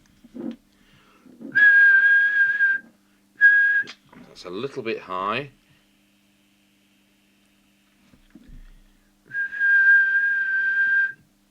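Steady whistled tones in short bursts into a Realistic TRC1003 UK 50mW handheld CB radio transmitter during alignment, with a pause for a spoken remark between them; each whistle holds a single even pitch with a faint hiss underneath.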